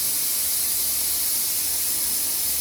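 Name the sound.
pressure cooker releasing steam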